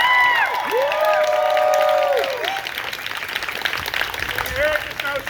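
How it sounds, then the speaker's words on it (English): An audience bursts into loud sustained applause mixed with a few whistles and cheers, close and full at first, then thinning into scattered clapping. "Can we give them a round of applause?"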